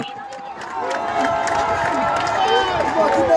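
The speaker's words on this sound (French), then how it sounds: "Des militaires auteurs du coup de force en cours au Gabon contre Ali Bongo applaudis par des habitants de Libreville." Libreville residents cheer and clap for soldiers behind the coup against Ali Bongo in Gabon, a lively crowd roaring close and continuous, with shouting voices mixed through.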